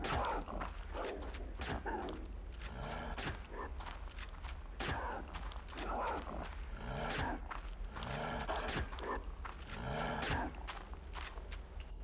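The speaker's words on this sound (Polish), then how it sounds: "I've just killed a creature that I can only describe as a monstrous black dog." A monstrous black dog creature in the Blair Witch Volume 1 horror game, heard as rapid bursts of gunfire mixed with snarling roars and barks, loud and chaotic throughout.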